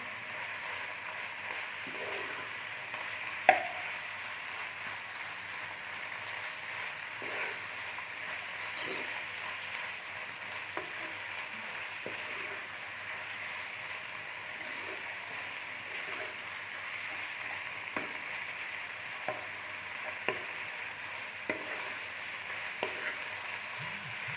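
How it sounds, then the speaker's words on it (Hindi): Minced keema being fried with green chilli and dried and fresh coriander in a pan, a low, even sizzle with occasional soft scrapes and taps of a spatula, one sharper knock early on. "अब इसको थोड़ा सा इसकी भुनाई कर लेते हैं कीमे की।"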